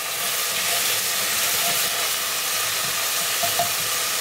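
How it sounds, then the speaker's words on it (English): Onions and tomatoes cook in a hot pan for a chicken curry, making a constant soft sizzle and steamy hiss that stays steady and close with no voices. "We're going to cook our tomatoes until they get tender."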